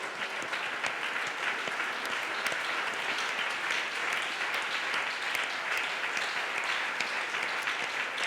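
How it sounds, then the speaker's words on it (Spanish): A church congregation gives steady, dense applause that fills the room, continuous and even throughout with no talk over it. "Y yo quiero invitarle para que le dé fuerte un aplauso a Dios por eso."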